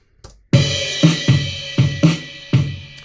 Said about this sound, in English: I'm going to click in a crash cymbal right at the very start